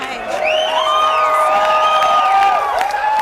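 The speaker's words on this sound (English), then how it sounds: "Pauline, the reason that cheer might be going up," A crowd at an election night event cheers and whoops loudly, rising voices and shouts swelling together in a sustained burst.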